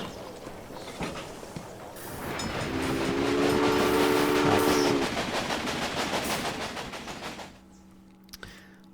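A locomotive in the railway management game Railway Empire rolls past with rhythmic wheel clatter that swells and fades, a long sustained horn blast sounding at its peak before the noise drops away into a quiet hum.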